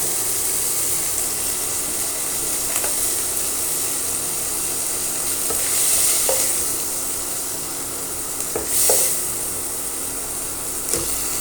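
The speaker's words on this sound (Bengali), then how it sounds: "এরপর চিংড়ি মাছগুলোকে আমি ভাজা হয়ে গেলে তুলে রাখবো।" Prawns frying in hot oil in a pan for a lau chingri curry, a steady broad sizzle throughout with a few brief stirring scrapes and bursts of spattering, close and alone with no talk.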